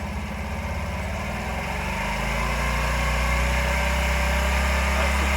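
A 2006 Honda Varadero 125 motorcycle idles steadily just after starting, a close, even engine putter that holds at a low, unchanging pace with no one speaking.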